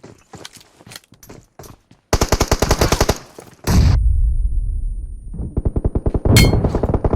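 PUBG Mobile gunfire: short scattered shots, then loud rapid automatic bursts, a pause with a low boom, and another fast volley of close, sharp reports.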